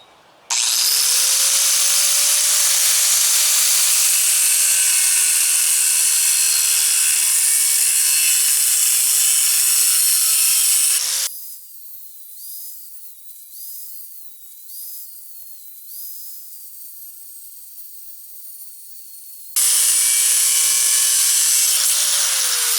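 A power tool cuts through an exhaust flex pipe beneath a truck cab, throwing sparks, with a loud, steady, close-up whine for about ten seconds, a quieter wavering stretch, then the full cutting roar returning near the end.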